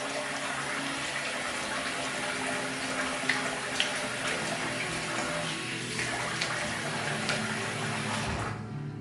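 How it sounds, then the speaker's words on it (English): Water runs steadily from a tap as a shaving razor is rinsed under it, a continuous close hiss with a few small knocks, cutting off at the end. "I'll rinse it off."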